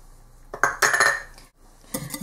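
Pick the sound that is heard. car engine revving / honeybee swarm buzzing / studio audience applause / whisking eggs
whisking eggs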